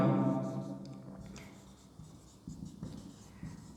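Pen scratching a label onto a reinforced-concrete column drawing, soft close strokes in short bursts, following a fading spoken word at the start.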